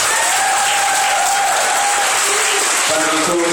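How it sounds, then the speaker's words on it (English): Loud continuous clapping from a school assembly crowd at an anti-bullying event in Bristol, with voices faintly audible beneath the applause toward the end. "Round of applause for George."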